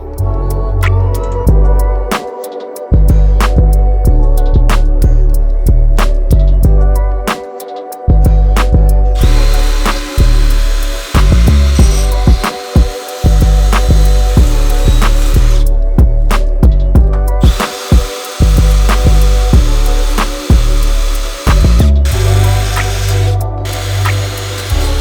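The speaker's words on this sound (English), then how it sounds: "just like grind what you can away. Just whatever you got to chip away the paint" A power tool grinds paint off weld spots on an S2000, running in loud, close bursts that start and stop repeatedly, with brief pauses between passes.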